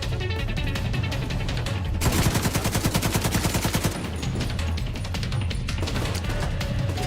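A machine gun fires in Tom Clancy's The Division 2, a loud, rapid, evenly spaced stream of shots lasting about two seconds, set among other scattered gunfire and constant background game noise.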